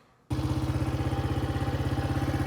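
A 1998 Honda XR80R motorcycle engine fires up after a brief quiet moment, then runs at a steady, rapid, pulsing idle, loud and close, with no talk over it.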